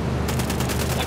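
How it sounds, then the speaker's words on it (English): Dense automatic gunfire in the tactical shooter Ghost Recon Wildlands pounds out a rapid, steady stream of loud shots with close, heavy low-end booms across the whole moment. "I'm shooting these fuckers."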